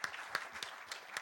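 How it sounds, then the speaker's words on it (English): A small audience claps for the panelists at the close of a breakout discussion session, a sparse, uneven patter of individual hand claps heard from a short distance in a conference hall. "So let's give them a big round of applause."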